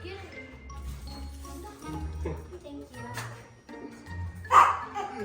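A small dog gives a few short yips and barks amid nearby talking and a faint jingle.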